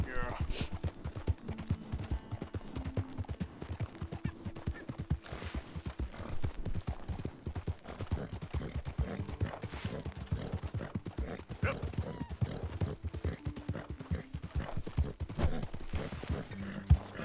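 Horse hooves clip-clopping in a steady galloping rhythm while riding in Red Dead Redemption 2, continuous and close, with a person talking over it.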